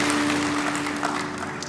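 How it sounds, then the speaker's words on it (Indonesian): Congregation at an Indonesian church service gives enthusiastic applause, a loud, dense patter of many hands with a steady hum beneath, tapering slightly toward the end. "Berikan tepuk tangan yang meriah untuk Tuhan kita"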